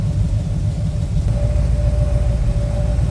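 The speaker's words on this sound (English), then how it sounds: "Wow, this is a good sounding small block." A small-block V8 in a 1956 Willys Jeep runs steadily with the hood propped open, giving a continuous deep rumble and a faint steady whine on top, with no talking.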